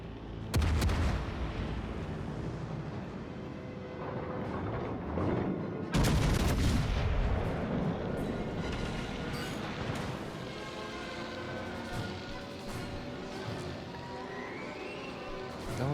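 Heavy naval gunfire from a premium Rome battleship in World of Warships: Legends, with loud booming salvos near the start and around six seconds, followed by a rumbling, sustained battle din.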